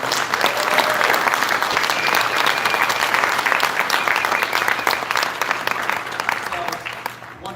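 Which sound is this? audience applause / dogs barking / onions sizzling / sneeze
audience applause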